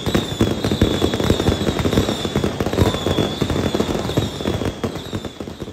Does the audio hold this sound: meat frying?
no